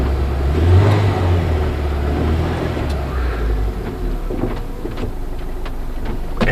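A 2000 Ford F150 and a 1996 Ford Ranger idle together in a driveway after a cold start, giving a steady, continuous low rumble close by with no talking.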